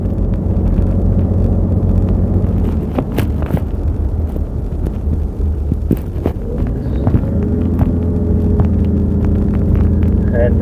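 A 2004 Toyota Land Cruiser J100 drives along with a steady low engine hum and rumble under wind noise, heard from inside the cabin, loud and continuous.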